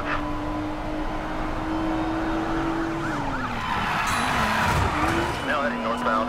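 A car driving in Need for Speed Payback during a runner mission, a droning engine tone that shifts pitch over tire and road noise, with sirens and radio chatter mixed in and voices talking over it.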